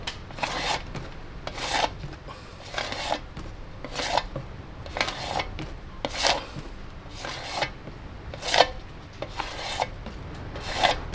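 A tool scrapes old paint off a surface in a regular series of rasping strokes, about a dozen close scratchy passes with short gaps between them.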